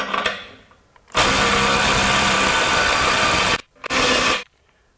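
DeWalt DCF902B subcompact impact driver spinning in reverse, one loud steady whirring run of about two and a half seconds, then a brief second burst; close, with no talk.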